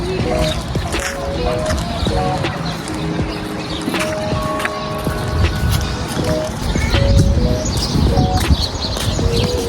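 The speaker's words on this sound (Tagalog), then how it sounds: "ang daming mga ibon-ibon" Many birds chirp and call across a park with a playground, steady overlapping tweets under a busy outdoor wash of background noise and distant traffic.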